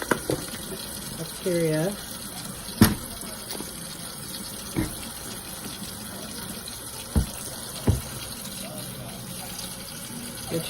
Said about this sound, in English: I'm using hot water and soap with my brush to dispose of the